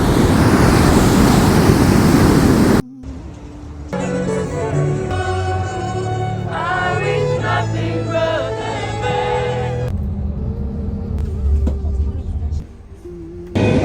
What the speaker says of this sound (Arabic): بس اليوم البحر هايج. شوف الله على صوت البحر.